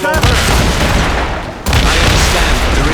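Ship cannon broadside firing in Assassin's Creed Rogue: a loud, continuous rumbling barrage of booming blasts, briefly dipping then resuming at full force, with no talking over it.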